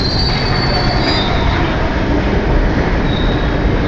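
London Underground train at Notting Hill Gate station, loud and close, with a continuous rumble of wheels on rail and high, piercing squeals of steel wheels for the whole stretch.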